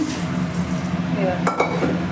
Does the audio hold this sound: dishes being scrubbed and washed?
yes